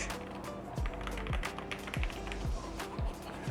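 Typing on an Attack Shark M86 keyboard, a fast, steady run of creamy, muted keystrokes with a few heavier thocks, close up with no talking.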